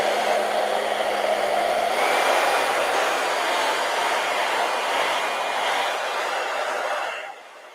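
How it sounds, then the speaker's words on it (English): A handheld blow dryer runs loud and steady for about seven seconds, drying hair after a quick wash, then cuts off and leaves a quieter tail. "I can use a blow dryer to speed us up here."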